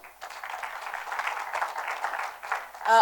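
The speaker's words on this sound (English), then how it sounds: "I think we can give them another round of applause" Audience applause for a panel at a high-level meeting in Nairobi rises and holds as a moderate, diffuse patter, heard somewhat distant with a brief louder burst at the end.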